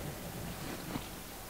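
Rain falling in the horror video game Darkwood, a steady dense hiss of rainfall with a faint low rumble underneath, continuous and even throughout with no voices.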